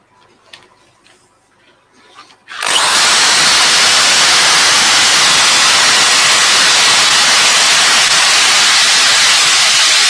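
A few quiet knocks, then a loud power drill buffing an ash end-grain wood piece whirs into a steady, harsh grinding buzz that runs continuously at close range.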